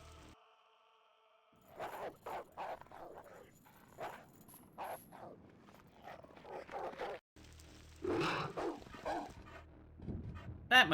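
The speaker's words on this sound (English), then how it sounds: "Because you can hear all that barking." Angry dogs in a video game bark, yip and whimper in repeated bursts, starting after a short quiet stretch and growing louder and busier toward the end.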